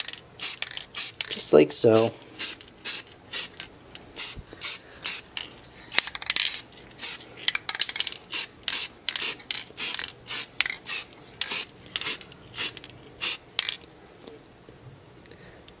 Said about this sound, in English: And then just really light spritzes ought to do it.